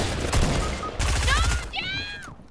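Rapid bursts of video game gunfire, including a minigun, crackle in close, dense volleys while excited players talk over the shooting.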